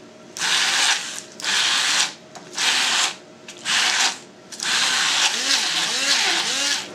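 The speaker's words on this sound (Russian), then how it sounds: "Остывшие грибы измельчим блендером до состояния паштета." An electric blender chopping cooled cooked mushrooms into a pâté filling for beef Wellington, running in loud whirring bursts with short pauses, then a longer continuous run as the motor labours through the mixture.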